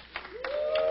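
A handful of scattered claps from a sparse comedy-club audience, brief and thin, with a voice sounding over the top.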